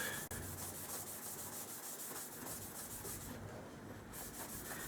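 Hand polishing of a metal part from a Crosman 760 airgun during a restoration: a steady, close rubbing hiss that runs without pause for the whole stretch, with no talk.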